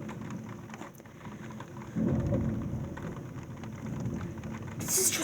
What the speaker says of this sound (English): I never seen so much rain.